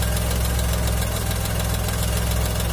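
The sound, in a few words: car radiator fan switching back on, engine running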